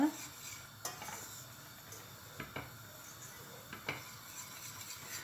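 A spoon scraping and stirring thickening pudding in a pot on a stovetop, with soft, irregular metallic clinks and scrapes over a faint steady hiss of cooking, quiet and close, without any voices.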